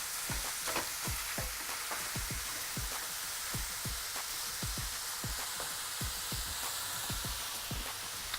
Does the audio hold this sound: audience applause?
no